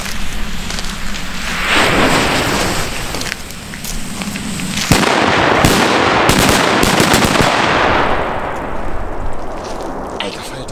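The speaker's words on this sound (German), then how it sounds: "Gute alte Dumbo und P1-Böller." Dumbo and P1 firecrackers go off in a loud, dense barrage of sharp bangs and crackling reports, nearly continuous across the whole stretch, thinning slightly toward the end.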